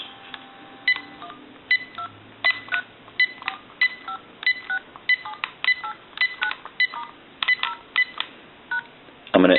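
A steady sequence of short keypad tones from a GE Cordless 6.0 telephone handset, model 27909EE, beeping one after another at an even pace, close and clear over a faint line hiss.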